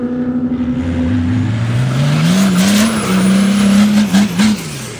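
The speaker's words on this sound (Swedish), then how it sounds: "En jättedubbelturbo Dodge-motor" A powerful twin-turbo diesel Dodge racing engine roars loudly and continuously at a racetrack, its pitch climbing and dipping as it revs through gear changes, close and dominant throughout.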